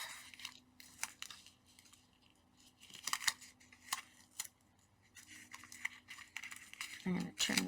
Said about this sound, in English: And we're going to trim that off.